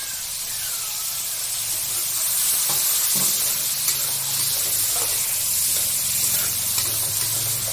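A paste of garlic, coriander and green chilli sizzles steadily in a hot pan for Bengali chorchori, a close, loud, continuous hiss with faint stirring scrapes and no talking.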